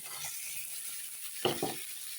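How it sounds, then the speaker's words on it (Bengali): Fried eggs are stirred into sizzling masala in a pan. A soft steady sizzle runs throughout, and a couple of quick stirring scrapes and clinks come near the middle. No voices are heard. "ডিম দিয়ে এখন ভালো করে নেড়ে ছেড়ে নিলাম কষা মশলার সঙ্গে নেড়ে দিলাম"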